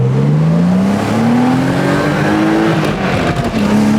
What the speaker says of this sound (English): First to second, I want you to hit limiter. Okay. Floor it.